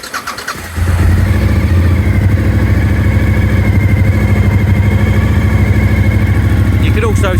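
A 2003 Suzuki SV1000S with aftermarket exhaust cans cranks briefly, fires up and settles into a loud, steady, throbbing idle close by, with a voice speaking over it.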